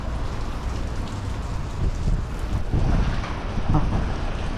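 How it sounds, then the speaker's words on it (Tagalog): Winter rain in New Zealand pours steadily onto surfaces nearby, a dense hiss that swells louder partway through, with some wind buffeting the microphone. "Lumalakas pa yata yung ulan."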